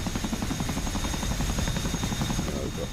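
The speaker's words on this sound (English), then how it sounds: "It's so noisy, isn't it, in this helicopter?" Inside a helicopter cabin in the DCS World flight game, a steady loud rotor throb and engine drone fill the space continuously, with a constant high whine over the pulsing beat.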